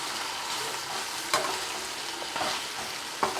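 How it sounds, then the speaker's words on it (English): Vegetable biryani ingredients with carrot being stirred in a frying pan, a steady close sizzle of frying with a few scraping clinks from the spoon at intervals. "Mix all the ingredients properly"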